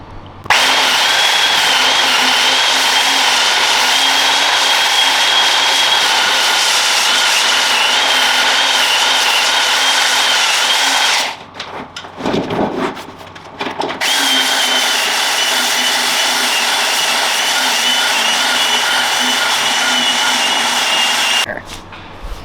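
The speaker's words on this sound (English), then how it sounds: "Belt sander, let's go." Belt sander flattening a wood slab, running loud and close with a steady high whine and grinding abrasion for about eleven seconds, stopping briefly amid handling noise, then starting again for another long run.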